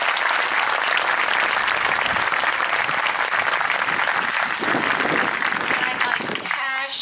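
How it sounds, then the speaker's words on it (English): An audience at an elementary school graduation ceremony applauds the students with loud, sustained clapping from a crowded room that fades out at the end. "So let's give them a round of applause."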